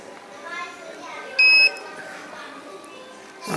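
A multimeter in continuity mode gives one sharp, steady beep of about a quarter second while its probes rest on a shorted capacitor on a mobile phone board. Indoor room noise and faint voices sit underneath.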